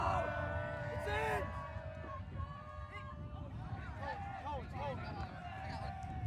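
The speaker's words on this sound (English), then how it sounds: "Calls from the Wisconsin crowd that he touched it." A Wisconsin crowd calls out at a college ultimate frisbee championship quarterfinal against Tufts, with raised voices rising in short shouts over steady crowd noise while a commentator talks throughout.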